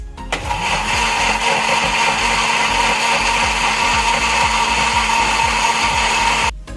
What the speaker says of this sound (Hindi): इमली के पानी को मैं अब डालूंगी जूसर जग में और इसका एक स्मूथ सा मिक्सर बनाऊंगी।